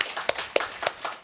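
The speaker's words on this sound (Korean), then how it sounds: "하나님께 영광의 박수." A few sharp, separate claps ring out in a quick, uneven rhythm, close by, during a church prayer service sermon, more like scattered hand claps than full applause.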